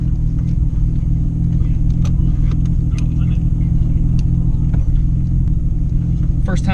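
A midnight purple Nissan R34 GTR rumbles steadily from inside the cabin while driving, a low constant engine drone with people talking over it.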